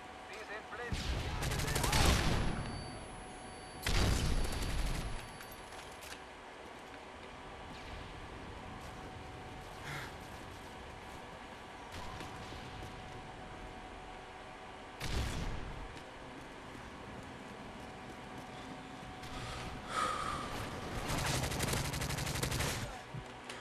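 Gunfire in Call of Duty Modern Warfare 3, with several bursts of rapid shots and booming blasts separated by quieter stretches of background game noise, and some voices in between.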